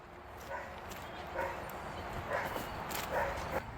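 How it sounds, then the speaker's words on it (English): Sled dogs yip and bark in a distant, repeated chorus of short barks at fairly regular intervals, heard faintly over wind-like background noise. "Dogs are barking, they want to get going"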